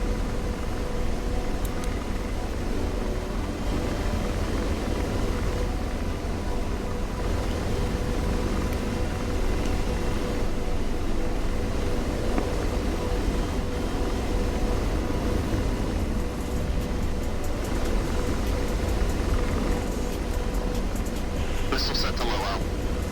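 An Apache helicopter in a video game gives a constant loud rotor and turbine roar that stays steady and unbroken the whole time, with a brief higher whine near the end.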